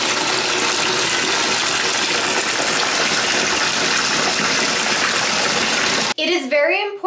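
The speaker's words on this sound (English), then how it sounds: "So you're going to fill your bucket up with some medium to" Cold water gushes from a restroom tap into a bucket, a loud, steady rushing pour that runs for about six seconds before cutting off abruptly.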